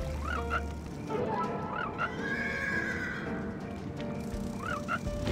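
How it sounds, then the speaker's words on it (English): Horse whinnying and neighing in the video game Voodoo Vince, with clip-clopping hooves beneath; a couple of high-pitched whinnies ring out near the start and again at the end over a steady ambient game bed. "Let's feed the horse."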